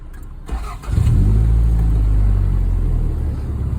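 An older Toyota Corona project car sits with its engine running and the radiator fan spinning, a loud close rumbling idle that swells after a short softer start and holds steady.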